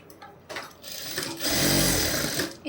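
Sewing machine stitching a shoulder seam with a half-inch seam allowance: a short burst, a pause, then a loud steady whirring run of close needle strokes that slows near the end.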